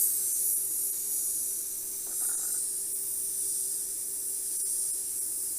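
An airbrush sprays paint lightly onto a Shelby blade in soft, steady hissing bursts, faint and close, with no talking.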